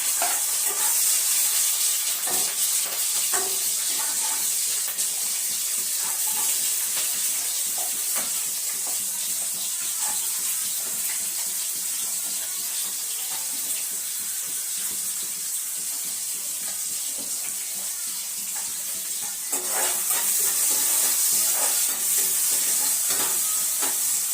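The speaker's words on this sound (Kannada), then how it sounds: "ಸ್ವಲ್ಪ ಸಾಸಿವೆ ಜೀರಿಗೆ ಹಾಕಾಕತ್ತ ನೋಡ್ರಿ. ಸ್ವಲ್ಪ ಮೆಣಸಿನ್ಕಾಯಿ ಹಾಕಾಕತ್ತ" Mustard seeds, cumin and green chillies dropped into hot oil give a steady sizzle with crackling pops and occasional stirring, a loud burst rising near the end, and no talking.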